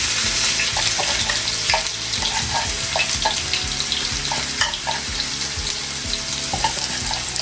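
Ginger garlic paste sizzling in hot oil in a pan after cumin seeds, a continuous loud crackling fry with frequent stirring scrapes and clinks of a spoon against the pan.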